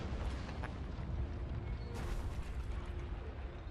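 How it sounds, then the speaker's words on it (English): A chain gun fires to take out an emplacement in the video game Resistance: Burning Skies, heard as a continuous dense roar of gunfire and explosive booms, with a sharper burst partway through. "we're going to use the power of the chain gun after we reload it and see if we can take out that emplacement"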